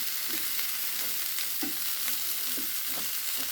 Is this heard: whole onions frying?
yes